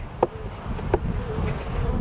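Honey bees hum in a continuous close buzz around an open hive during an inspection, with a couple of brief knocks or taps over the steady drone.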